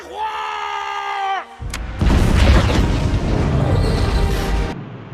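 A commander's Scud missile launch in an action film, with a rising whine that gives way to a loud launch blast and a long roaring explosion rumble, while distant screams and crowd noise sit under the din.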